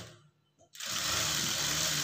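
After a brief near-silence, a sewing machine starts stitching the front part of a blouse and runs in a loud, steady, rapid whirr to the end.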